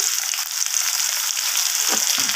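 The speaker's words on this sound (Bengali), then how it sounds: "সবকটা আলু আমি দিয়ে দিয়েছি তেলের মধ্যে" Potato pieces fry in hot oil, giving a loud, steady, close sizzle, with a brief stirring scrape near the end.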